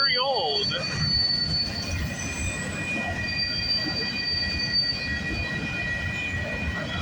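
A freight train with old CP Rail hopper cars and grain cars rolls past on a rainy morning, wheels squealing steadily with high metallic whines over a constant low rumble of passing railcars, close and loud throughout.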